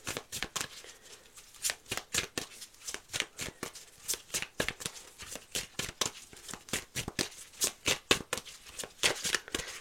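A deck of tarot cards being shuffled and cut, giving a quick run of crisp riffling flicks and soft slaps that repeat steadily, close and clear with no talking.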